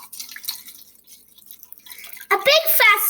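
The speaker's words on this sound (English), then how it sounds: "you should notice how the water drips a little differently" Water dripping and then being poured onto a home erosion model, starting with faint scattered drips and ending in a louder rushing pour up close, while someone talks.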